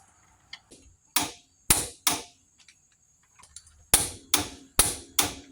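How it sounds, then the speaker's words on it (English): A big torque wrench tightens a brake caliper bolt to 118 foot-pounds on a Lincoln Town Car, producing a close series of sharp metallic clicks and knocks in an uneven rhythm, with short gaps between them. "I got room to swing the big torque wrench here"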